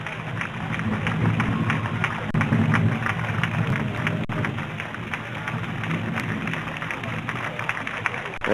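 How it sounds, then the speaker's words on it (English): Crowd along South Broad Street in Woodbury applauding the American Legion float at a street parade, sustained dense clapping that continues throughout, with a voice talking over it. "appreciated by the crowd."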